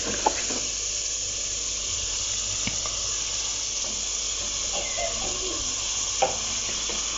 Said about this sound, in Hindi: अब हम इसको अच्छे से मसाले के अंदर इसकी भुनाई करेंगे